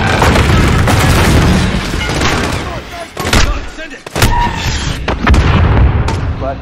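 A missile strike explodes in Modern Warfare 2019 during a siege on a US embassy, with heavy booming blasts, rumbling debris and scattered gunfire around them, loud and close, with a short lull before another impact.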